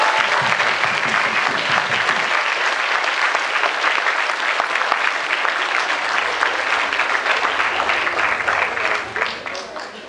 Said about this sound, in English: please do a huge round of applause for the fabulous panel